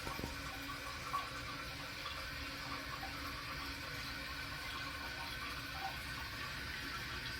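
A toilet tank refills after a Korky Universal Ultra 2-inch flapper replacement, giving a steady, faint hiss of running water that continues evenly throughout, with a couple of small clicks and no voices.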